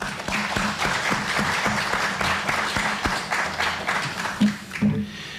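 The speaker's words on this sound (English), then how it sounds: "Let's give them a round of applause." At an African health-in-detention conference, an audience gives a round of applause, steady overlapping clapping with distinct sharp hand claps close by, running evenly for about five seconds and thinning out at the end.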